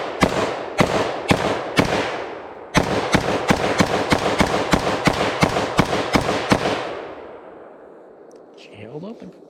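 A Colt M4 Commando R933 pistol fires a full magazine in rapid, evenly spaced loud shots, a short pause after the first few, then a steady string of reports that ends and leaves ringing echo and faint rustle.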